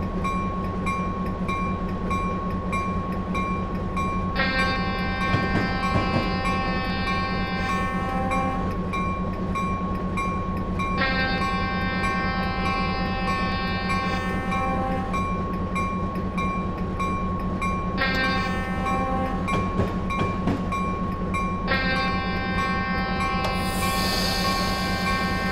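An EMD SW15 locomotive runs in Train Simulator 2015 with the loco brake applied. A steady engine drone and low rumble carry throughout, with repeated bursts of brake hiss and tonal squeal recurring every few seconds.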